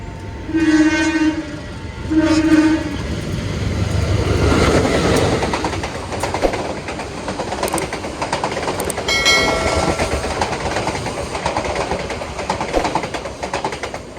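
Probowangi passenger train running along the tracks past Gedangan station, with two loud horn blasts at the start, then a steady rumbling roll and rhythmic wheel clatter, plus a short squeal midway.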